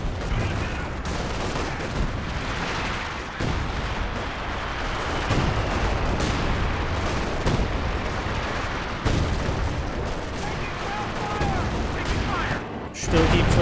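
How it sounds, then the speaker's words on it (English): Artillery fire in Company of Heroes 2, a dense, continuous barrage of booms and gunfire with rumbling low end, loud and sustained throughout, with faint commentary beneath. "We got some sort of, I think, major artillery there."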